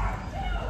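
An American Bully puppy gives a short yip or whimpering bark. It is quick and fairly soft, with a person's voice talking over it.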